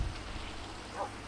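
Steady rain falls in a Minecraft world, a soft continuous hiss with no voices, swelling slightly near the end.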